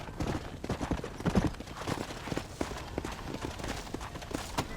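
Horse hooves clip-clop at a steady trotting rhythm in the Western video game Red Dead Redemption, sharp repeated hoofbeats fairly close over a quiet outdoor background with no talk.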